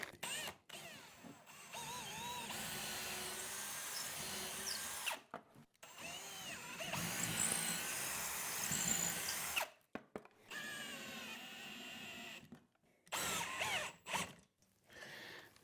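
A power drill drives screws into wall mounting holes for a 98-inch Samsung Mini LED TV, several loud close whirring bursts separated by short pauses.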